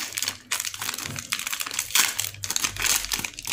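Plastic packaging of a Boya BY-M1 microphone crinkles and rustles in close, continuous bursts as it is opened, with a few short sharp crackles and no talking.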